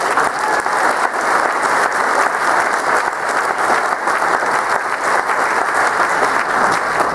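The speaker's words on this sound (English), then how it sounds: "Let's give a round of applause to the staff." A large audience at a political campaign rally in the Borland Center claps for the staff, dense and loud steady applause lasting several seconds with no pauses, filling the room.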